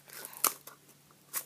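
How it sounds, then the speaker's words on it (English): Scissors snip through paper while a heart shape is cut out for decorating an art binder: a few short, crisp crunching cuts, one sharper and louder than the rest, spaced irregularly against a quiet room. "So I wanna cut some of this into maybe a heart shape."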